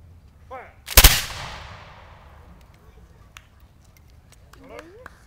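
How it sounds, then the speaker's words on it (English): A flintlock musket volley fired in a line with pre-made cartridges: one sharp, loud crack that rolls into a long fading echo, with faint voices and rustling before and after. "of us in a line, and we could volley 4 to 6 times a minute, we can put a lot of ammunition down the field"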